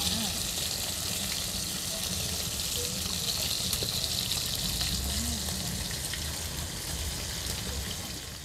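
Rats frying in oil with lemongrass and chili give a loud, steady sizzle and crackle throughout, with faint bubbling and occasional stirring, close up and alone.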